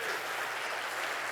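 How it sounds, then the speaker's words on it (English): Conference audience clapping together on cue, a short burst of dense, even applause filling the room at a talk on paranormal believers and skeptics, with no voices over it. "I want you to give me a big clap when I say clap now"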